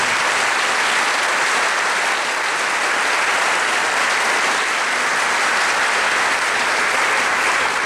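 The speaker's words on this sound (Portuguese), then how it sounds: "Vamos aplaudir a palavra de Deus" A large congregation at a Catholic preaching event claps for the word of God, dense continuous applause filling the hall at steady loudness for nearly eight seconds.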